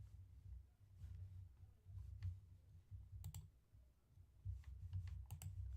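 Computer keyboard typing: scattered, faint key clicks at an irregular pace over a steady low hum, with two sharper bursts of taps near the middle and end.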